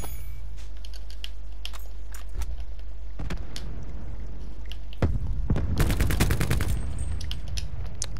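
Shotgun fire in Black Ops 4 free-for-all, a few sharp booming blasts over a steady low game rumble, with a dense burst of loud shots midway and keyboard-like clicks scattered throughout.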